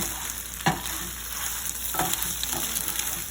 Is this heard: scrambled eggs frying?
yes